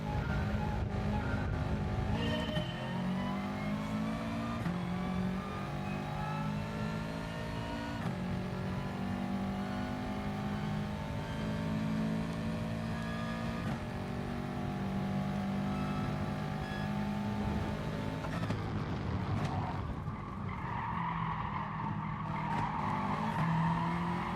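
A Subaru race car in GT Sport screams through a long stretch of sustained engine revving with rising gear pulls and squealing, skidding tyres. It stays loud and continuous, with no talk.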